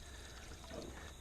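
Water pours out of a heavy container during gold sluicing, a faint, steady splashing trickle that runs throughout the short stretch with no voices over it.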